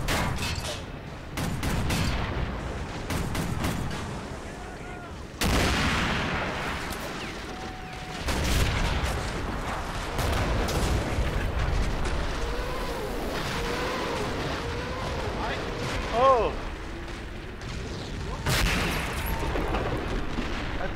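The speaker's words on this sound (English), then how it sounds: "They scaled down the explosion, didn't they?" Booming blasts and bursts of gunfire crash repeatedly through a noisy MOWA 2 game soundscape, with sharp impacts scattered across the whole stretch.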